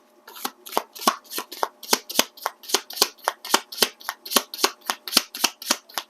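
A tarot deck being shuffled, about twenty quick crisp riffling bursts in steady rhythm, close and fairly loud, with no one talking.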